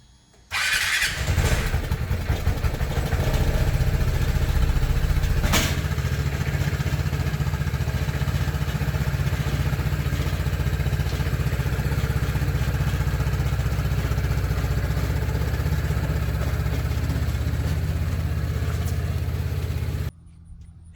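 A Vespa GTS 300 Super Sport scooter engine starts up and then runs steadily at a loud, even idle for nearly twenty seconds, with a brief sharp clatter early on, before cutting off abruptly.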